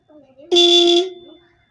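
A single short, weak motorcycle horn beep, about half a second long, sounds close and loud, with a faint voice just before it.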